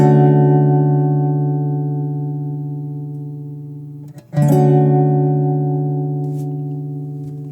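Clean guitar chord through a ToneWoodAmp Leslie rotary effect at a slow rate, sustaining loud with a gentle slow swirl, briefly cut off by a re-strum midway before ringing on and slowly fading.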